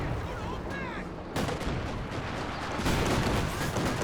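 Half-track gunfire in Company of Heroes 2, a dense, continuous rattle of shots and booms from a battlefield with a short whistling streak early on, mixed and fairly loud throughout.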